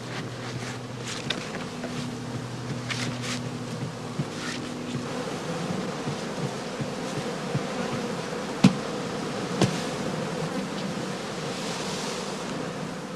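Honey bees buzz steadily around heather skeps set on a moss ring during autumn sulphuring in a heather skep apiary, a soft continuous hum with a few faint sharp knocks and no voices.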